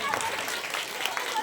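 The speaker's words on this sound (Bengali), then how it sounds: "আমার টিম দুর্গার জন্য একটু জোরে হাততালি" A crowd at an autumn Durga festival gathering applauds a prize-winning team, a brief burst of steady clapping with a voice over it.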